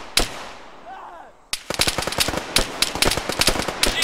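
Gunfire in an ArmA 3 firefight: a single sharp shot, a short lull, then a rapid string of loud cracking bursts from rifles and a machine gun, close and unrelenting.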